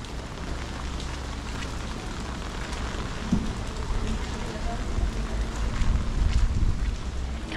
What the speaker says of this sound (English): Camera lens keeps getting covered up by rain, which you don't want, and it's getting a bit windy now.